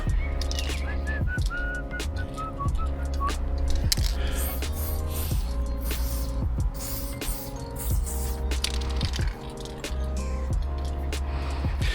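Someone whistles a tune over a steady background of tonal music, the melody rising and falling at a moderate volume.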